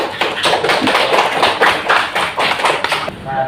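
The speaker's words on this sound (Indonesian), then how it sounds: "Tepuk tangan buat Albani." Students in an elementary classroom clap together for a classmate, a busy run of overlapping handclaps at a steady, fairly loud level for a few seconds before the clapping thins out at the end.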